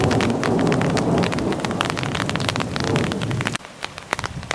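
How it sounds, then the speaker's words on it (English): Heavy torrential rain pours down on a country road, a dense, steady roar of drops close by that eases somewhat near the end. "the torrential downpour that I just walked through the last few minutes"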